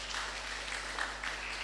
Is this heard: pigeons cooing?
no